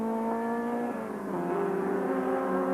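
Touring race cars battle at Kyalami, a close, loud, continuous engine roar with shifting pitch as the cars accelerate and change gear, alone without voices.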